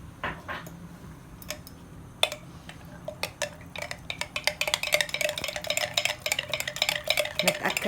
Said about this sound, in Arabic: نرجع كمان بنخلطهم